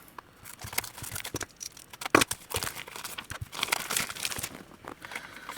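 A cardboard shipping box being cut open on a craft table, with soft scraping, crinkling and tearing sounds in irregular bursts, close and fairly quiet, with one sharper crack midway.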